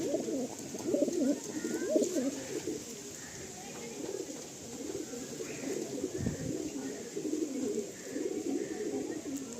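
A pair of Madrasi pigeons, a male and a female, coo in low rolling bursts close by, the throaty calls repeating steadily throughout without any talking.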